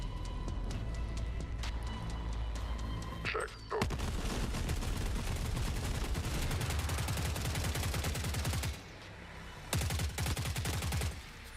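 Rapid automatic gunfire in the video game Forever Winter, aimed at a hovering machine's rotors, fires in dense sustained bursts with a brief pause near the middle and another short gap toward the end, loud and close.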